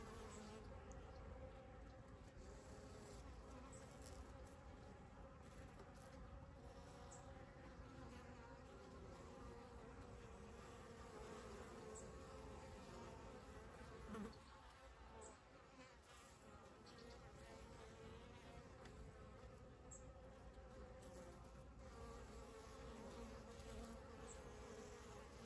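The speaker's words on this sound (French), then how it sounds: "on regarde un peu les abeilles travailler" Honeybees working around their hive, a steady faint drone of many wings buzzing close by and far off, continuous and without any voices.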